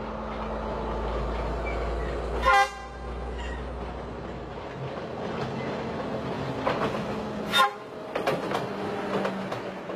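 A train on a broad gauge railway in Sri Lanka rumbles along the tracks with a low steady drone, broken by a couple of sharp bursts of clatter as it passes over joints or structures.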